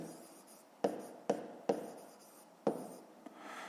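Handwriting on paper, with several distinct pen strokes in close succession, each a sharp scratch fading quickly, close and clear with no talk.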